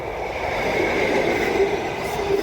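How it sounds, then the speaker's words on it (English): A train rolls past close to an allotment beside a wildlife area, giving a steady, loud rumble with a sustained hum and faint wheel noise throughout, and no voices. "Just wait for the train to go by."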